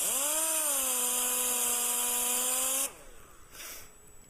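A Quick Cut wet sander, a dual-action sander color sanding automotive paint, whines steadily and loudly with a strong tonal hum for nearly three seconds, then cuts off abruptly, leaving quiet room noise and a faint rustle.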